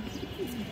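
A pigeon gives a single brief, low, soft coo at close range over faint room hiss.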